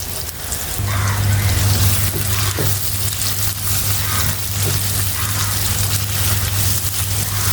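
Chopped onions drop into hot soybean oil with cumin seeds and fry in a loud, steady sizzle that carries on unbroken at close range.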